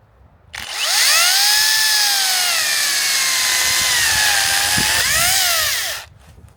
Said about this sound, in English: Round 2, mini chainsaw.